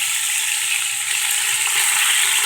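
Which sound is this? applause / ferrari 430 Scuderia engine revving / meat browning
meat browning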